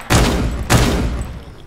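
Gunfire in the Roblox game Da Hood: two loud, close, sharp shots about half a second apart, each followed by a short booming decay, with no talking.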